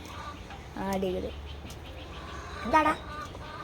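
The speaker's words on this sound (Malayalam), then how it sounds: "ഇത് എൻ്റെ കോഴിക്കുട്ടികളാണ്." Chickens in a coop at a rural home give two short bursts of clucking, moderately close, over steady background noise, with someone speaking briefly.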